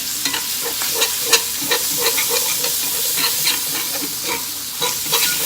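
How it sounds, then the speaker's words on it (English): Flour being whisked into cooking sausage in a pan for sausage gravy, a steady loud sizzle with scraping, stirring strokes throughout, no talk. "Give that a whisk. And just whisk it all together."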